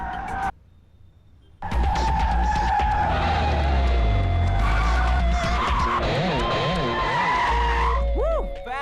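A car skids with tires squealing during a test drive, the sharp screech rising after a brief quiet gap and wavering up and down over a loud engine roar.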